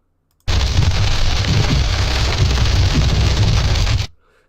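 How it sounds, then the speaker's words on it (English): Raw noise generated by the Stable Audio Open AI model from noise latents: a dense, rain-like broadband hiss that starts abruptly, holds steady and loud for about three and a half seconds, then cuts off sharply. "that is the sound of noise latents"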